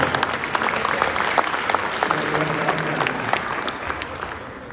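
Steady audience clapping at a Hall of Fame induction ceremony, a dense, continuous round of applause from a crowd, fairly close and loud throughout with faint crowd noise underneath.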